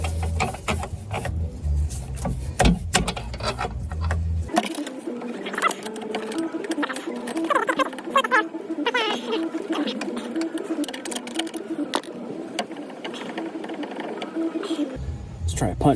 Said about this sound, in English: So I can wiggle this guy out with a pry bar.